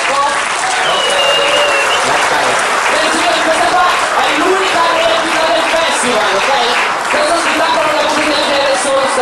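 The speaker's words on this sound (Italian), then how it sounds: "Iniziate con un applausetto per scaldarmi mentre montiamo il palco." An audience at a clown show claps and applauds loudly and continuously, a dense wash of clapping with scattered voices and whistles mixed in.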